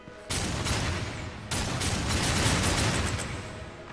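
The player's gun fires in the video game Darksiders 2, a loud, dense roar of rapid shots in two sustained bursts split by a brief pause, with no talking.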